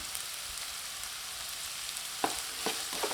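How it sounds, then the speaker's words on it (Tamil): Mixed vegetables sautéing in a pan for paneer fried rice give a steady soft sizzle, and a few quiet scrapes of stirring come near the end, with no voices. "இப்போ காயெல்லாம் நல்லா வதங்கிடுச்சுங்க."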